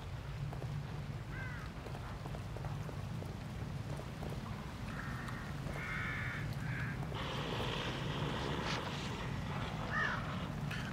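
A crow caws a few times at a moderate distance in the video game The Evil Within, with short harsh calls over a steady low ambient rumble and a patter like rain.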